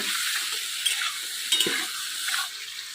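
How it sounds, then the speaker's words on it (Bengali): Vegetables fry in a pan seasoned with salt and turmeric during village-style cooking, giving a steady, close sizzle broken by a few scraping stirs of a spatula. "ভাজা হোক সবজিটা ভাজা হোক"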